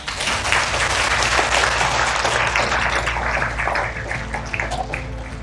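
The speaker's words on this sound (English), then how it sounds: "give them a round of applause" Loud, dense applause from a keynote audience at a World Values Day event, a sustained wash of many clapping hands filling the space, tapering slightly toward the end with no speech over it.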